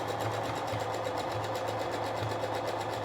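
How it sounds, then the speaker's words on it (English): Sewing machine back stitching a seam on a drawstring camisole, a fast steady mechanical whir with a soft pulsing chatter, close and even, running alone. "I'll start with a back stitch, just to lock my seam in place."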